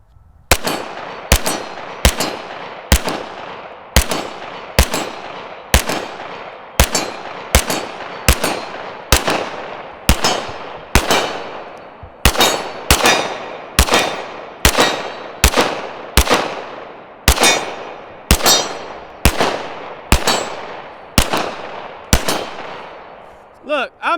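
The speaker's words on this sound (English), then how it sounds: "Bang on, didn't miss a single shot." A Sig Sauer P365 pistol fitted with a Flux brace fires a long string of sharp, loud shots at a steady, rapid pace, roughly thirty in all, with a short pause partway through.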